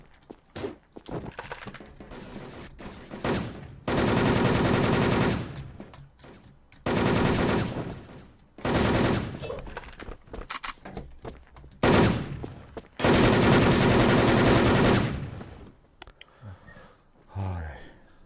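Automatic gunfire in the online shooter WolfTeam, several loud sustained bursts of a few seconds each separated by pauses, with players talking and reacting between them.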